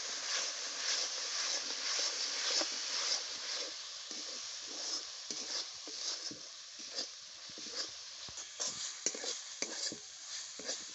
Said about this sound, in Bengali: আবারও মশলা ভালো করে কষিয়ে নেব